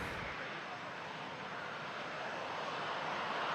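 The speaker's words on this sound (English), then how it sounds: "That was Air Canada 777 300 headed to Paris." Air Canada Boeing 777-300 jet departing Toronto Pearson airport for Paris, a steady broadband engine roar at moderate distance, fairly faint and constant throughout.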